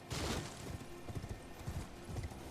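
Torrent, the spectral horse in Elden Ring, gallops with rhythmic hoof clip-clops, a snorting whinny at the start, and steady beats continuing throughout at moderate volume.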